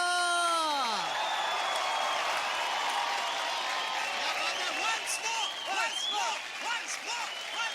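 Loud audience applause and cheering at a live song performance, a dense sustained wash of crowd noise with scattered whoops after a fading sung or musical note at the start.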